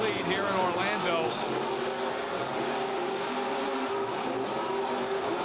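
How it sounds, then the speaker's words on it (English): A monster truck's big engine revs hard and continuously at a stadium show in Orlando, filling the air with a deep rumbling growl amid crowd noise. "Truck sounds so great. Big engine in that truck."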